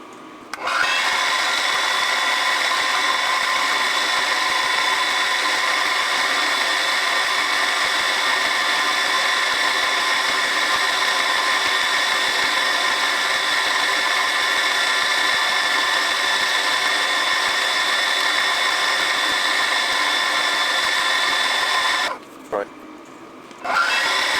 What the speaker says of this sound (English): Now I can machine this surface as a reference surface.